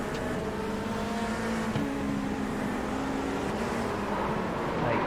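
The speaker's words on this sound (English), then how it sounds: "I don't know why he downshifted to first, let alone go full throttle in first." A race car engine in an IndyCar-style racing video game revs hard and steadily, its droning tone climbing and shifting pitch as it is held at full throttle in first gear, loud and close without any voices.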